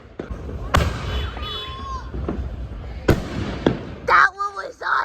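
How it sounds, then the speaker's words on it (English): Fireworks at an outdoor display go off in two sharp, loud bursts several seconds apart, each trailing into crackle, with faint voices beneath. "Man, Luigi, those fireworks were so cool."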